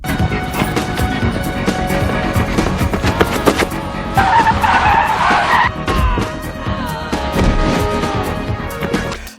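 Tires squeal and skid during a film car chase, loud screeching bursts over roaring engines and sharp impact-like cracks, with a sustained shriek in the middle and more scattered squeals afterward.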